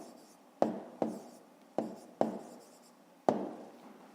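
Close, quiet pen strokes on paper, five distinct taps with short scratchy tails spaced unevenly, a school maths exercise being written out in silence.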